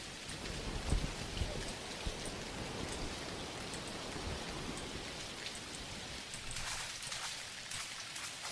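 Steady rain pours down in the farming game Dinkum, a continuous dense patter with scattered drops, fairly soft and unbroken, with no one talking.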